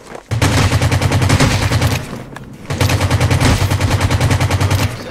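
AKM rifle fired in long full-auto bursts in the video game Rules of Survival, rapid evenly spaced loud shots in two sustained strings separated by a brief pause.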